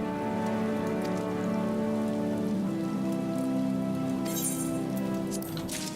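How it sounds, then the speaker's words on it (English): Steady rain falling in the Final Fantasy XIV game world, a soft continuous patter of drops on surfaces beneath a sustained tonal music bed, with a few brief brighter chinks near the end. "apparently it's raining now"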